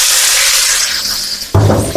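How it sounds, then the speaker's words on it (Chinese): Tofu fries in hot oil with a loud, continuous hiss, and near the end a sharper burst of sizzling flares up. "借着这里面的油重新煎那点剩那点豆腐"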